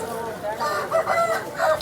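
Roosters and chickens at a Vijayawada poultry market, giving a few loud, drawn-out crowing calls close by over a steady market din.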